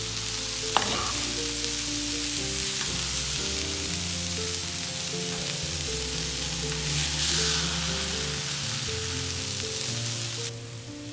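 Cauliflower rice stir-fried with vegetables in a pan makes an even, close sizzle lasting the whole stretch, with a low steady hum underneath, a single sharp tick near the start and a brief rise in hiss near the end.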